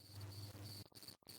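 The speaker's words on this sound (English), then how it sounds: "Yeah, there's crickets outside." Crickets chirping outdoors, a steady high trilling drone heard from a distance and continuing without pause through a short moment of faint background noise.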